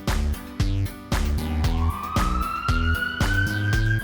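A stylized ambulance siren in a children's vehicle song, a bright rising wail sliding upward over a bouncy, rhythmic musical backing, loud and prominent.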